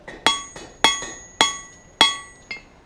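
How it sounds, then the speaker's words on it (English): Blacksmith hammer blows land on metal being drawn out on an anvil, five sharp ringing strikes at a steady pace of roughly one every half second, close and loud with no talking. "I'm normally going to keep my hammer in the same spot and I will move the material under it"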